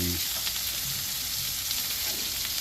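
Breaded pork chops fry and brown in a pan with a steady, close crackling sizzle and faint popping throughout, with no talking.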